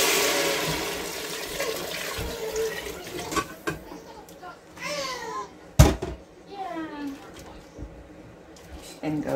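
Water poured from a measuring container into a soup pot for split pea and ham soup, a rushing, splashing pour under a child's chatter and other voices nearby.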